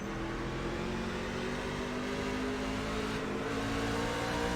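A truck series race engine in iRacing at Talladega drones and revs continuously at high pitch, steady and loud throughout with no talking.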